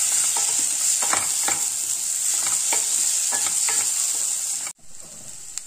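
Brinjal sautés in hot oil with a steady close sizzle, while a spoon scrapes and stirs through it in a series of soft, irregular strokes. No one speaks.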